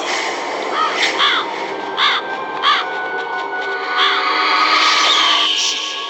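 Several crows caw in Metal Gear Solid, harsh repeated calls in short bursts of two or three, fairly close and loud over a hushed game ambience, with a denser cluster of caws near the end.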